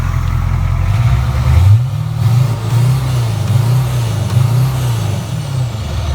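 A 1972 Chevrolet Nova with a turbo diesel engine revs up from idle. The rough, throaty engine note rises and falls through several pulses, close and loud, with no talking.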